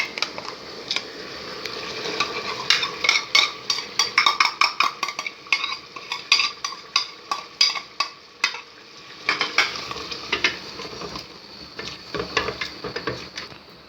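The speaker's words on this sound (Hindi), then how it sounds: "अब हम इसको भूनेंगे।" A spoon scrapes and clinks rhythmically in a pan while chicken korma masala with yogurt is stir-fried, with a soft sizzle underneath and no talking, close and steady throughout.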